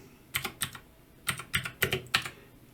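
Typing a region name on a computer keyboard, a few quick clusters of crisp key clacks with short pauses between, close and clear.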